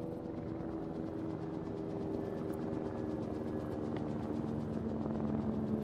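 A helicopter's rotor in the video game ARMA 3 chops steadily in a continuous drone, moderately loud and unchanging, with no voices.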